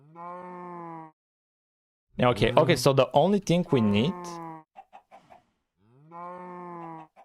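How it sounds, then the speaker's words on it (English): Cattle mooing inside a C++ Minecraft clone game, two drawn-out moos at the start and end with someone talking in between, fairly close and clear. "Let me close the game because the cows are annoying."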